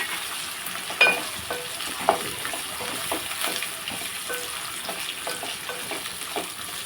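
Carrots and vegetables fry in a pan for upma with a steady, close sizzle, interrupted by a few sharp clinks and stirring scrapes.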